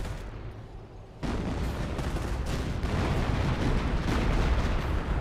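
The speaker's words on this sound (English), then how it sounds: "And we also got a creeping barrage running on in." A creeping artillery barrage in Company of Heroes, a World War II strategy game. After a brief quieter lead-in, a dense, continuous roar of overlapping shell blasts and rumbling detonations rises and keeps building.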